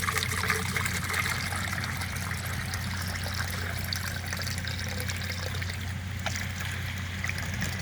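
Fresh coconut water trickles and splashes steadily from a pierced coconut on a farm, a continuous close liquid flow over a low background hum with no talking.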